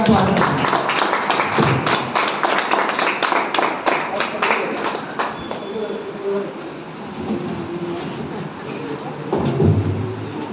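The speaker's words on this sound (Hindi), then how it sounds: "सभी दोस्तों ने ताली बजाते हैं।" An audience clapping at a gathering in Delhi, dense, brisk applause from many hands for about five seconds, then thinning out with voices talking and a brief swell of clapping near the end.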